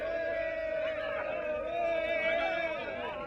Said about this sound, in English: Outside Fort Usher prison, the crowd are waiting for the release of more of Nkrumah's political prisoners